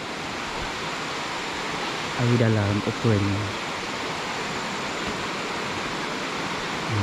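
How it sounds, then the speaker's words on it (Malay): Water rushes steadily over a rocky river with small rapids at a Malaysian campsite on Sungai Sedim, a constant broadband roar throughout, with a voice speaking briefly over it midway. "Kat belah sini berbatu. Ada jeram sikit-sikit kecil."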